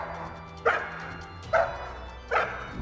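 Three deep barks from a massive Neapolitan Mastiff guard dog, evenly spaced about a second apart, each short and booming over a steady low background hum.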